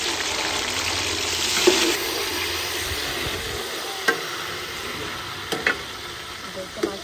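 Onions and tomatoes fry in a pan while a spoon stirs them, giving a steady close sizzle broken by a few sharp scraping knocks of the utensil against the pan.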